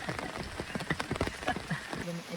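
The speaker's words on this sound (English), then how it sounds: "It appears to be really and truly raining." Rain falls steadily outdoors, a dense close patter of drops with scattered sharper taps, continuous for the whole stretch with no other clear sound.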